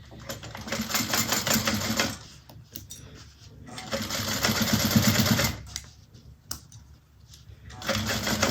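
A sewing machine stitches a bag seam in two or three sustained rapid runs of mechanical clatter, close and steady, separated by brief pauses with small handling clicks.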